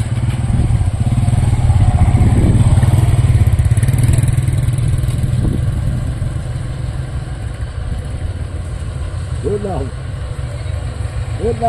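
A motorcycle engine rumbles steadily at close range, idling low with some clatter, while voices talk in the background.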